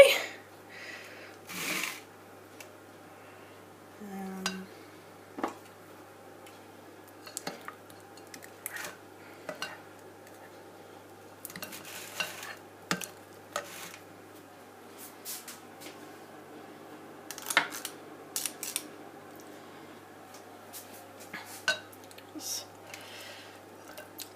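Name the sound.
scraping the last sponge batter from a bowl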